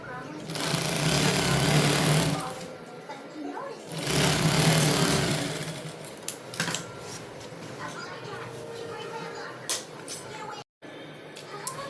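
Sewing machine stitching a shoulder seam on a garment with a one-inch joining allowance, its rapid, steady whirring running loud in bursts, pausing and restarting, with a voice talking over parts of it.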